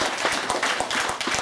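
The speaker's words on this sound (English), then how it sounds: "Just want to give him a round of applause." A brief round of applause at a campaign dinner, scattered hand claps from a small crowd heard close and moderately loud.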